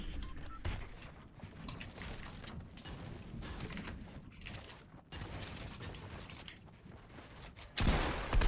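Shotgun fire in a Fortnite-style video game, heard as a rapid busy stretch of repeated gunshots and mechanical clatter mixed with game effects, moderately loud, ending with a sharper louder burst.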